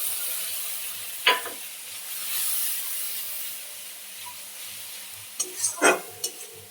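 A spice paste of turmeric, chilli, cumin and coriander mixed with water cooks in a pan for curry. A soft low sizzle runs underneath a few sharp stirring scrapes, heard alone and fairly faint.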